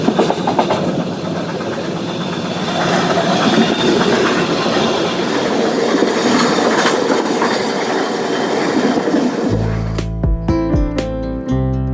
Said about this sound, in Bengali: ট্রেন তার নির্দিষ্ট টাইম 10:55 16 নম্বর প্ল্যাটফর্ম থেকে ছেড়ে দিল জয়পুরের উদ্দেশ্যে